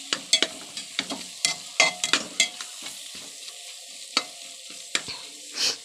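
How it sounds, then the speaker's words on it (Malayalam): Chicken curry stirred in a pan: quick, irregular scrapes and clinks of a spoon against metal over a soft sizzle, close and fairly loud, with no one speaking. "നന്നായി ഇളക്കി യോജിപ്പിച്ച്"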